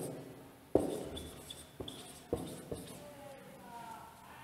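A pen writes an answer on paper, giving soft scratching strokes broken by several sharp taps as the tip meets the page. The sounds are close and quiet, and a voice speaks faintly in the background.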